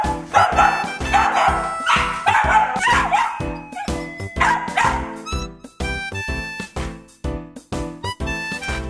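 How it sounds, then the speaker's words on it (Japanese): Dog barking in rapid, loud bursts close by, repeated yips and barks coming in quick rhythmic volleys throughout. "吠えてますね"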